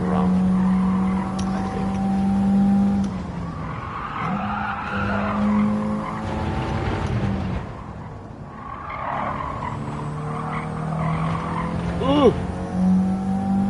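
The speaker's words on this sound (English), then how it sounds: "Stay in 3rd, rev it out this time." A Toyota Celica in Gran Turismo 7 at Suzuka revs hard and sustained, its engine note climbing and dropping through gear changes with sharp tire squeal late on, while someone talks briefly over it.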